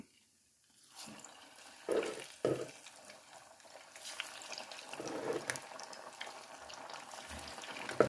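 Onion bhajis fry in hot oil with a bubbling, crackling sizzle that starts after a quiet moment, marked by a few louder bursts as more batter goes in, then a steady frying hiss.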